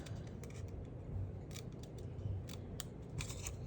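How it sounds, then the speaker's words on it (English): Scissors snip through card along a score line in a mixed media Christmas house craft, giving a quiet run of short crisp cuts spaced irregularly, close by and alone. "We are going to cut up this score line"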